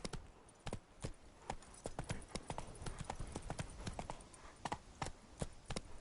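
Roach, the horse in The Witcher video game, gallops with a rapid, evenly spaced run of sharp hoofbeats, fairly close and with no talking over it.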